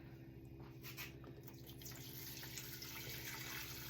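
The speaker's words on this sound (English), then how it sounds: "and we're going to add water." Water is poured into a pot around a jar of crystallized honey, making a faint, steady trickle and splash under a low background hum.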